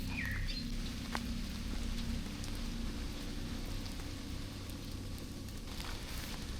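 Rain falling steadily in a forest campsite: a dense, constant patter on leaves and surfaces, with a few faint bird calls above it and no speech.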